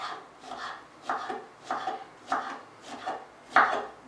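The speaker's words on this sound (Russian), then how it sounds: "Мы будем резать шампиньоны." A knife finely chops champignon mushrooms on a board, giving about seven close, crisp cuts in a loose, steady rhythm, with no talking.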